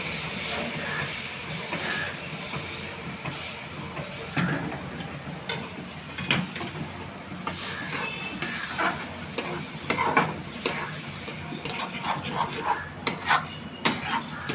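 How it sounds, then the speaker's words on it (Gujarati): A spoon scrapes and clinks against a pot while upma is stirred and boiled water is slowly poured in, producing irregular metallic taps and rubbing sounds at moderate volume, with no talking. "એક હાથે આપણે ચમચો લાવતા રહીશું ને એક હાથે પાણી એડ કરીશું."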